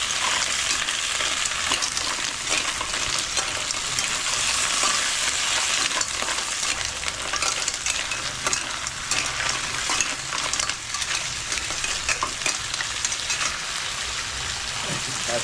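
Mussels (tahong) sautéing in a pan for ginisang tahong, a steady crackling sizzle with shell clinks and scraping as they are stirred, continuous and close.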